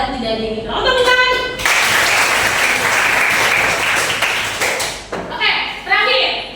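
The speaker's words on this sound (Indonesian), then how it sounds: "Tepuk tangan" Students in a classroom clap their hands in a loud, dense burst for several seconds, between stretches of a teacher speaking before and after.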